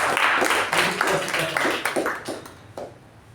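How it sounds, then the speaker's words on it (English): A meeting audience claps in a thunderous round of applause for a woman, a dense burst of many hands that stays full, then thins and fades over about three seconds. "Let's give her a thunderous round of applause, special round of applause"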